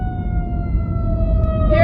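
Loud siren wail with steady tones that slide gently downward, sitting over a heavy low rumble for under two seconds.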